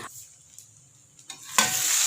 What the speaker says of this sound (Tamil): நல்லா இது மசாலாவெல்லாம் நல்லா எண்ணெயில் வதங்குற மாதிரி நல்லா பச்சை வாசனை போகிற மாதிரி வதக்கி விட்டுட்டு